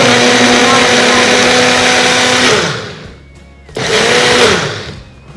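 An electric smoothie blender runs loud and steady with a high whine, cuts out for about a second, then starts again and winds down.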